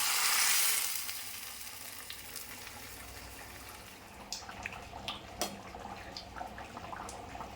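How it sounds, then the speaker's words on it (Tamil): Tomato kurma curry with softened onion and tomato bubbles in a pan, a steady sizzling hiss that is loudest at first, then settles into scattered pops and crackles. "குருமா குழம்பு நல்லா கொதிச்சிடுச்சு, வெங்காயம் தக்காளிலாம் நல்லா வெந்துடுச்சு"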